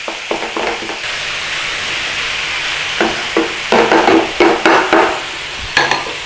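Meat, onions and spices sizzle steadily in a hot pan for a tourtière filling, close and loud. Scraping and clacking stir strokes cut through the frying at an irregular pace, with no talking.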